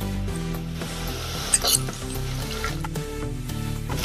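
Green chilies sizzle and crackle steadily in a hot pan with fried ginger and garlic, with a few sharp clinks of a utensil against the metal.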